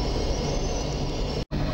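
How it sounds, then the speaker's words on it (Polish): A Pendolino express train pulls away from a platform at Warszawa Zachodnia station, its steady broadband rumble loud and continuous, broken by one brief drop near the end. "I Pendolino do Bielska Białej rusza."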